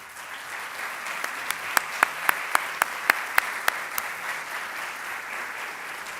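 Audience applause at a human rights authorities' inauguration ceremony, steady clapping throughout with a few louder, sharper claps standing out near the front partway through.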